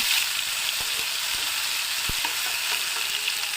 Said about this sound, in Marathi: आपण जी पेस्ट केली आहे हिरवी मिरची, लसूण, जिरे ही टाकून घेऊ. ती सुद्धा छान परतून घेऊ.